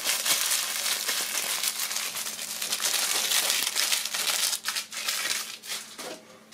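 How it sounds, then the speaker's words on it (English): Crinkly plastic packaging material rustles and crackles in close, irregular bursts as it is handled while unboxing a Remilore game for the Nintendo Switch, with no talking. "Yay, it's that crinkly stuff."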